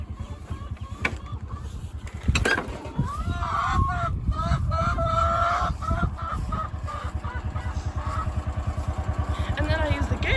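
Chickens clucking and calling close by over a steady utility vehicle engine rumble on a farm, with occasional honking calls and brief clatter.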